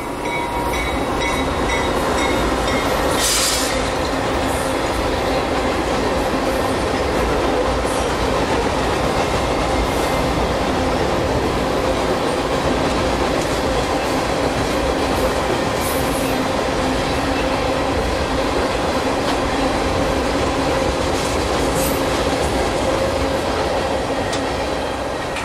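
Freight train Q740 with Tropicana juice loads out of Bradenton, Florida rolls steadily past, a continuous loud rumble of wheels and cars with faint clicking and squealing, heard for about twenty-five seconds without talk.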